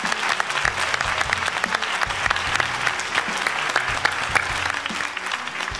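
A studio audience at the X-Factor Armenia talent show claps for Rafael: sustained, dense applause with a steady patter of many hands, close and even throughout.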